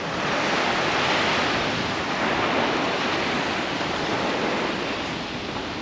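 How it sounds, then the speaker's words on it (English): Steady wind roars across the microphone with surf rushing underneath at a beach at Cape Hillsborough, Australia, a dense, constant wash of noise and no voices. "A little bit windy now, but it's alright."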